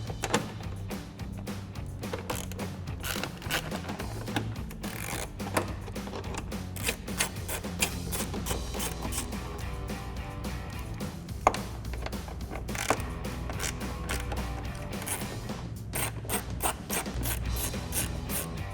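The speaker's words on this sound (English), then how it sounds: "we're going to go ahead and remove those with our 7 millimeter socket" A ratchet with a 7 mm socket backs bolts out of the inner fender lip on a 2018-2020 Ford F-150, giving a steady run of rapid, close mechanical clicks and ticks with no talking.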